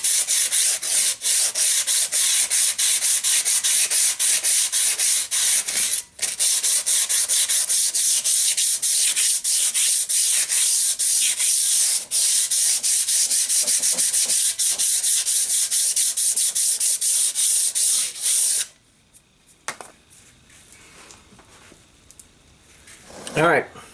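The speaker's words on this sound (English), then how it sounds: "So I use the sandpaper because I can make a nice smooth soft edge with my finger" Sandpaper rubs steadily by hand against a rusty cast iron pan, a loud, continuous scratchy rasp with brief pauses, stopping near the end and leaving quiet room sound with faint handling noises.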